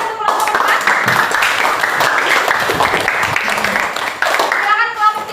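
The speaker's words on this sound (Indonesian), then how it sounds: "Berikan tepuk tangan untuk kelompok 4." Students clap for a presenting group in a classroom, a lively burst of many hands with children's voices mixed in, continuing loudly before fading near the end.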